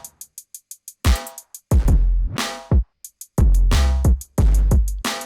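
A hard-hitting electronic drum pattern in a hyperpop style pairs a swelling reverse kick with booming hard kicks, rapid ticking hi-hats and snares, loud and dense with no voices.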